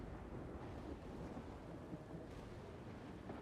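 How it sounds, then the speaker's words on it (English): A thunderstorm plays on the Total War: Warhammer campaign map as a faint, steady rumbling wash of rain and wind, low in level and without distinct cracks. "Oh, there's a storm ongoing"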